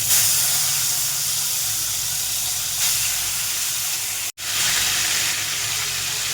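Boiled taro leaves hit a hot pan with a loud, steady sizzle and hiss that runs throughout, broken by one brief drop-out near the end.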